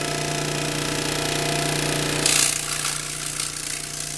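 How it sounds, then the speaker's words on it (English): Jigsaw cutting a plastic clone insert for a grow tower: a steady buzzing motor whine running throughout, with a louder burst of rasping cutting noise partway through, close and alone. "I found that the easiest way for me is just to use my jigsaw"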